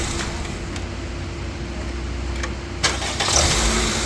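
A Honda Civic with a faulty starter is cranked and started; a steady engine rumble runs throughout, with a small surge near the end as it catches and revs slightly.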